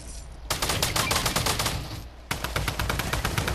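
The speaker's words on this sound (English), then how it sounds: "the drum gun's so good for this" A drum gun in Fortnite fires rapid sustained bursts, two long strings of fast evenly spaced shots separated by a short pause, loud and close with no talking over them.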